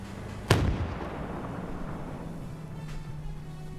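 A single loud cannon blast booms close by in a WW2 combat game, its deep rumble decaying over a couple of seconds beneath a steady low drone, with a fainter distant shot near the end.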